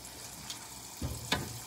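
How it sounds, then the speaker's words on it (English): Tuna steak searing in a hot pan gives a steady sizzle, with a couple of brief clanks or pan movements near the end. "Now we're going to get a marvelous sear on this tuna."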